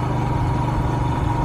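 A Royal Enfield Himalayan motorcycle engine runs with a steady, close mid-pitched rumble as the rider shifts down into first gear on a road.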